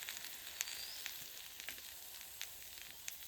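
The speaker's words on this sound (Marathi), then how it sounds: "तर आता काजू भाजत आहेत" Cashews roasting village style in a pan, a faint, even sizzle with scattered light pops and crackles spread across the clip and no voices.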